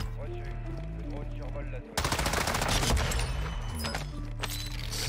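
Weapon fire in the video game Warzone 2 breaks out as a loud, rapid automatic burst that follows a quieter stretch, with a voice speaking French.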